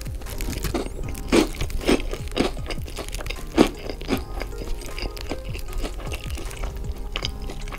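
McDonald's fast food french fries crunched and chewed up close, with a run of crisp bites and wet chewing noises spread across several seconds.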